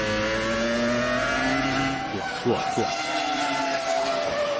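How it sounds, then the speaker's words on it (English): A 2005 Renault Formula 1 car at Hockenheim qualifying, driven by Alonso, accelerates out of slower corners, its engine note climbing steadily in pitch with brief rapid shifts, loud and continuous beneath a commentator's voice. "And good torque out of the engine, coming out of these slower corners."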